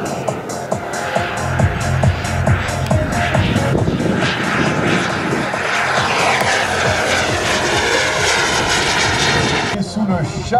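A model jet aircraft, the Tutu Jet, roars loudly and steadily at a model aircraft meeting in Sélestat, its engine whine sustained throughout before dropping off at the end.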